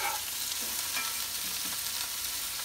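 Chopped onion sizzles steadily in a pan alongside a browning pork tenderloin roast, with a constant hiss and light stirring scrapes over the frying.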